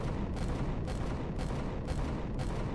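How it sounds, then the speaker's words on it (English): Gunfire from the space survival game Empyrion crackles in a dense, continuous barrage, with sharper bursts surging roughly every half second over a steady roar. "Alright, he's shooting at me."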